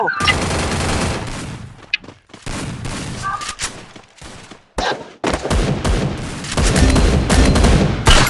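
Rapid bursts of gunfire in the Free Fire battle royale game, loud and close, with dense volleys broken by short gaps and a voice talking over the shooting.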